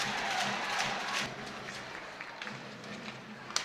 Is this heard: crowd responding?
yes